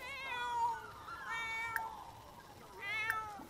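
Cats in The Sims 4 meowing in three drawn-out, rising calls, clear and close, separated by short pauses with quiet game ambience beneath.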